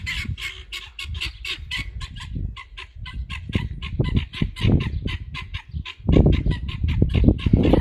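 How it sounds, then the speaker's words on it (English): Raucous poultry calls repeat in rapid, overlapping bursts, a chattering flock of guinea fowl close by, growing louder toward the end. "Yeah, they're noisy, but I like guineas."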